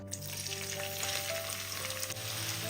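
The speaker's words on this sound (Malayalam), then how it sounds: "ഇനി ഇതിലേക്ക് സവാള ഇട്ട് ഒന്ന് ഫ്രൈ ചെയ്തെടുക്കാം" Thinly sliced onions fry in a little oil over medium flame for flaky layered parotta, a steady close sizzle crackling continuously with light stirring scrapes, no voices.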